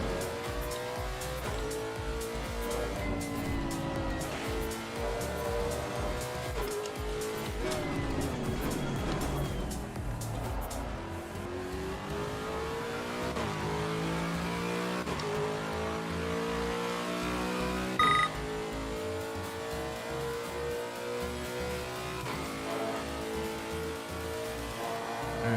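A Lexus RC F race car laps the Kyalami circuit in the racing game Assetto Corsa Competizione, its engine droning and rising and falling through the gears continuously, with occasional tire noise through corners and no talk.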